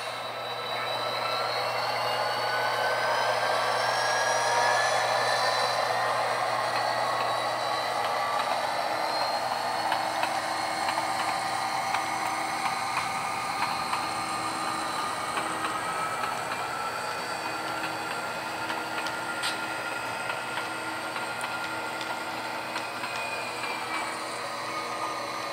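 Freight locomotive working slowly with two boxcars during local switching, a steady rumbling rail drone with faint wheel squeal and clicks, close and continuous throughout, no talking.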